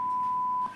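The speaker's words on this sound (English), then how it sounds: "The number's redacted, so that's why we hear the beep." A single steady censor beep, a pure electronic tone held for most of a second over a quiet recording, then cut off abruptly.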